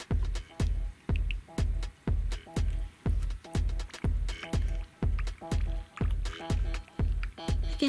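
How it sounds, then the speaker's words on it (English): Water poured into a Grossery Gang Super Size toy pack through a funnel, giving repeated wet squishing gurgles in a steady pulsing rhythm with faint fizzing, close and moderately quiet with no talking. "Can hear it kind of bubbling and fizzing"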